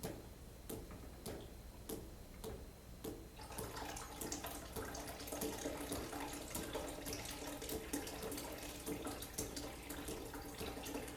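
Fluid flows and trickles through a pretend aorta and arteries, a steady watery rush with faint repeated ticking clicks throughout, growing fuller and louder after the first few seconds, with no voices.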